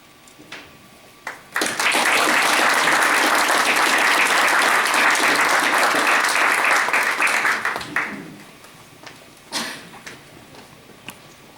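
An audience at a board of education meeting breaks into loud, steady applause that lasts about six seconds, then tapers into a few scattered claps in a quiet room.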